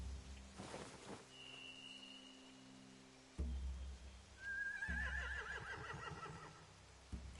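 Horses whinny in The Walking Dead video game, with a long rising neigh and a shorter one over low ambient rumble, plus faint thuds and shifting movement nearby.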